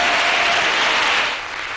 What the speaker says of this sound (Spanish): Aplausos ha habido muchos